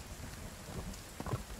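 Rain falling in the survival video game Sons of the Forest, a faint steady patter with a low rumble and a few louder drops, no talk.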